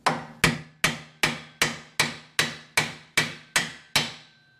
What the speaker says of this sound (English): Let's tap that out of there.